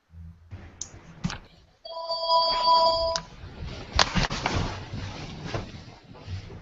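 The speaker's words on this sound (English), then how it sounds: "I think somebody's phone is ringing." A mobile phone rings nearby with a bright repeating tone that bursts out partway through, cutting off after about a second and a half, set against quiet room noise and scattered clicks and knocks.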